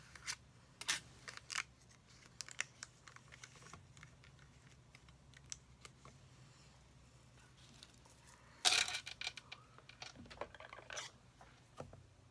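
Scissors snip through paper card pieces in quiet, sparse, close-up cuts with soft rustling between them and one louder crisp snip partway through.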